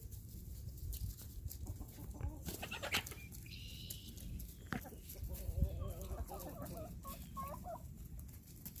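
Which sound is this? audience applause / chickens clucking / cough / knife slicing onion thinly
chickens clucking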